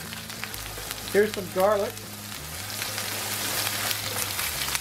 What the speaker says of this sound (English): My steak is getting seared off nicely.